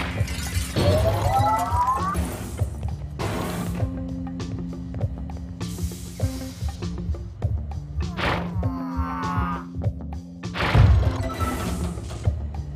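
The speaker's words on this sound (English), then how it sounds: "Unfortunately, the breaking of this glass is a necessary evil." Glass shatters in Quantum Conundrum in several separate crashes with bright, brittle bursts, spaced between tonal game sounds and a faint voice.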